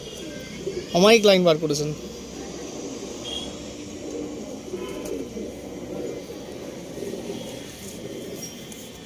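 Arsad and Andhra pigeons coo softly in a loft, a low murmur under a man's brief spoken remark near the start, with faint bird calls continuing afterward.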